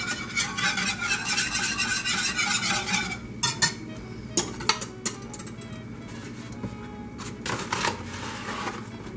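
A utensil stirring flour into melted butter in a pan for a roux, giving steady scraping and swishing with a few sharper clinks against the pan, close up and without talk.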